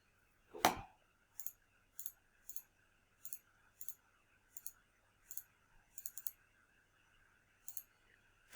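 Calculator buttons are pressed one after another in small light clicks, mostly in pairs with short gaps, after one louder knock at the start, all close and quiet.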